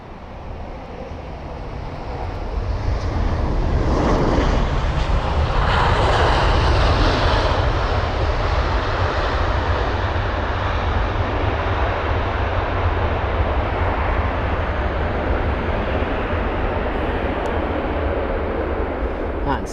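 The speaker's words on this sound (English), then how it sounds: "We've got the China Southern Airlines A350-900. And it's the arrival from Guangzhou" A China Southern Airlines Airbus A350-900 arriving at London Heathrow from Guangzhou makes a jet engine roar that swells after a few seconds and then holds a broad, steady rumble, with faint talk present.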